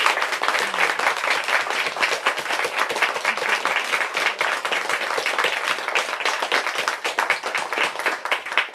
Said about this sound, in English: Let's give Nina a big hand.